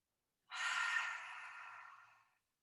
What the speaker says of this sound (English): We'll inhale through the nose. And then open the lips to exhale.